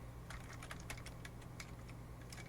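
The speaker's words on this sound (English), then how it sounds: "type in our password" Someone types a password on a computer keyboard, a quick run of light, irregular key clicks over a low steady hum, close but quiet, with no talking.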